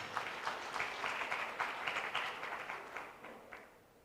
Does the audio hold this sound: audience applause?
yes